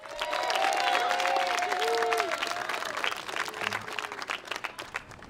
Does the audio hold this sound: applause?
yes